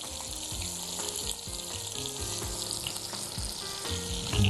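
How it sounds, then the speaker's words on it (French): Onions frying and caramelizing in a pan with salt added, giving a steady, dense sizzle with crackles and occasional clinks of a utensil, close and continuous with no talk. "je vais laisser aussi mes oignons se caraméliser"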